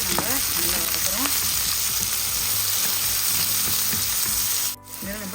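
Carrots and beans frying in a pan for vegetable fried rice: a steady, dense sizzle runs throughout at close range, dipping briefly just before the end.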